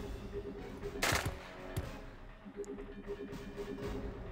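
Gunshots ring out in the Jagged Alliance 2 video game, one sharp loud crack followed by a softer second shot over a steady low ambient hum.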